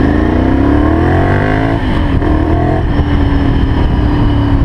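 A Ducati Monster 796 motorcycle engine, speed-limited to 50, runs loud and close, its pitch rising steadily through the opening seconds and then settling before climbing again, a continuous throaty drone throughout.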